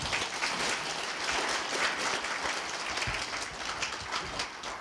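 An audience at a labour culture award ceremony applauds, a steady, dense clapping that holds at an even level from start to finish.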